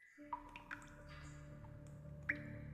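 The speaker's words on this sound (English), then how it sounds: "You hear drips of water." Sparse drips of water falling in a quiet, damp underground space, a few faint isolated plinks spread over a low background hum.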